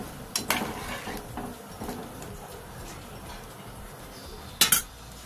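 A utensil knocks and scrapes against a pot while pieces of ash gourd are stirred in water, with a few sharp clinks early and a louder metallic clatter near the end, otherwise fairly quiet.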